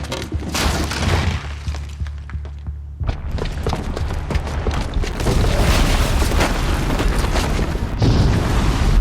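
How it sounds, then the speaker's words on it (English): A bomb booby trap goes off in Horizon Zero Dawn, a loud sustained explosive roar with crashing, rumbling debris and bursts that stays heavy for several seconds after a brief lull. "the booby trap on the bomb downstairs is gonna get set off"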